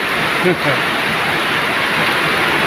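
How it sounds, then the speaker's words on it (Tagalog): Steady, dense rain roars close by, a constant broadband wash with a brief faint voice near the start. "Lumakas ang ulan."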